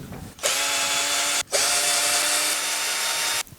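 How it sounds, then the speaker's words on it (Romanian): A power screwdriver backs screws out of the deck of a Speedxman 10 600W electric scooter: two loud, steady whirring bursts, a short one and then a longer one, separated by a brief pause. "Ok, am scos toate cele 14 șuruburi."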